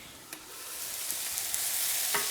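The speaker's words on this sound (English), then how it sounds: "just give it a stir and then cover it again" Aubergine curry simmers and sizzles steadily in a pan while a utensil stirs it, giving a few soft scraping taps over a constant close frying hiss, with no talking.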